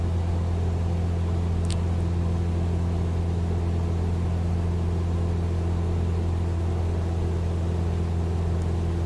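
Cessna 172 single-engine propeller plane droning in Microsoft Flight Simulator 2020, a steady, loud, unchanging hum with strong low harmonic tones and no talk.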